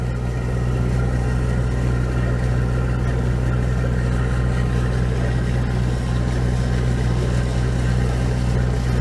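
A Perkins 4.108 diesel engine idles in a loud, steady, even drone with a constant low rumble and no change in pace, heard close and alone.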